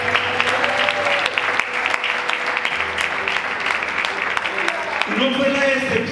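A church congregation claps for the sisters during a Spanish-language sermon, a steady burst of applause from a nearby crowd lasting the whole moment, with voices and a brief tonal sound mixed in beneath.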